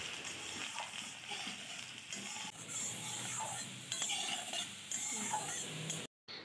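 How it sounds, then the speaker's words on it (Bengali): Small-cut potatoes fry in hot oil in a wok with dried red chillies, a steady close sizzle and hiss with occasional stirring clinks of a utensil against the pan, no voice over it. "ছোট ছোট করে কেটে রাখা আলু দিয়ে লাল লাল ভাবে ভেজে নিতে হবে আলুগুলোকে"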